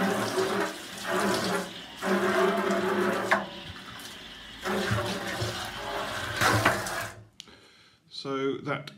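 Water drains out through the hole in the bottom of a Brewtools B150 brewing vessel at the end of a home brew day, a steady gushing and splashing stream with voices over it.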